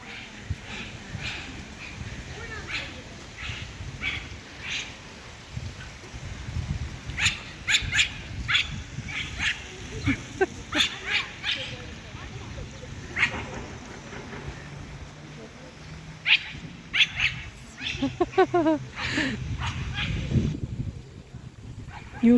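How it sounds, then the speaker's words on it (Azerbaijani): A small dog barks repeatedly at a big dog outdoors, sharp yapping bursts in uneven clusters that are loud and close, with quieter gaps between and some background noise. "Bu böyük itə hürür."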